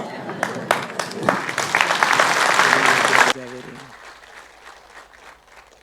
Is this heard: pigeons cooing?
no